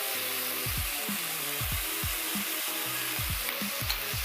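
Mushrooms and meat frying in a pan give a steady close sizzle, broken by repeated scraping stirs in an irregular rhythm.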